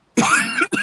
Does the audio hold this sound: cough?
yes